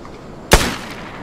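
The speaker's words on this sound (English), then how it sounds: "Damn, those gunshots like sounds real." One loud, close gunshot in the survival shooter game Vigor bursts suddenly and rings off into a brief fading tail, heard alone without speech.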